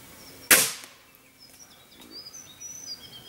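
A single sharp small-calibre firearm shot at a practice range rings out once near the start, followed by a quiet outdoor background with faint bird chirps.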